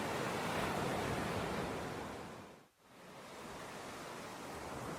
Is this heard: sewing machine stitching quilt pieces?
no